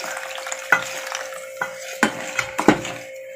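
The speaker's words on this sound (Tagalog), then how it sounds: "Then, haluin lang natin to." A batter of flour, rice flour, white sugar and coconut milk is stirred in a bowl, producing soft swishing with several sharp utensil clinks against the side at uneven intervals, close and clear.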